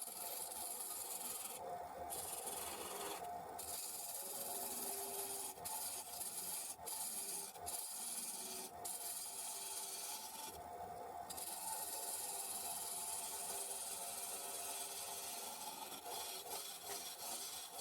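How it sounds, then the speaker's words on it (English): An Easy Wood mid-size finisher tool scrapes and rasps against a spinning walnut bowl blank on a lathe, rounding its edges, a continuous close hiss with rhythmic bumps and short bursts where the cutter bites. "just starting off with the Easy Woods mid-size finisher here, just taking the edges off the blank and working to a round"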